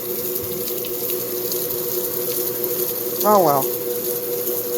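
An overloaded GE belt-drive washing machine runs its spray rinse, water splashing and hissing in a steady close stream, with a man's brief remark near the end.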